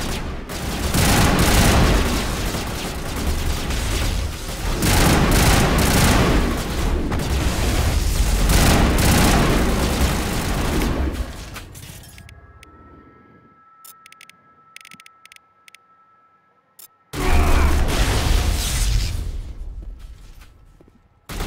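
Shotgun blasts in the Mass Effect moon base fight, a dense barrage of loud booming bursts for about twelve seconds, then near silence with faint clicks before another heavy blast erupts.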